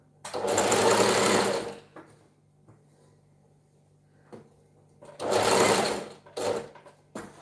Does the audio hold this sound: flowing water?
no